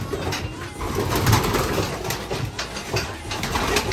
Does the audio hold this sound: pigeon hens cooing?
yes